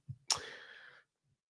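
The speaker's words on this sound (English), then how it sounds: "I just coughed directly over your shoulder." A single sharp cough in a courtroom, sudden and close, fading quickly, followed by a burst of noise at the very end.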